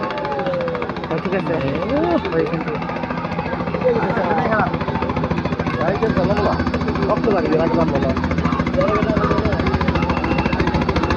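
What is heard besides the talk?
helicopter landing nearby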